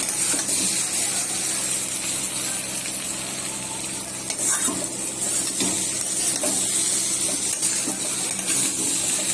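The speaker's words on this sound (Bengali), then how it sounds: "আর এখানে হচ্ছে ডিম ভেঙে দিয়ে আলু দিয়ে ভাজা করা হচ্ছে।" Potatoes frying with a broken egg in a pan, a steady close hiss and sizzle with faint stirring scrapes and small metallic clinks throughout.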